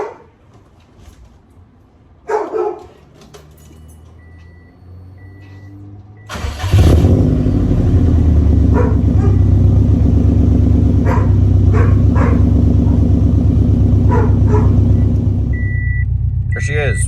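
A hot Subaru engine cranks and catches on a warm start after the fuel pumps are primed, then settles into a loud, steady idle that runs for about ten seconds; a short sound and some talk come before the start.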